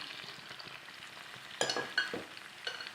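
Tomatoes go into a pan of frying ingredients, giving a faint sizzle followed by a few sharper bursts of hissing and clattering near the end.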